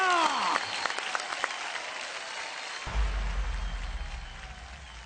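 Applause from a large audience at a Bhojpuri film award show in Singapore. It sounds as dense crowd clapping, loudest at the start, with a deep boom entering midway and the clapping continuing steadily to the end.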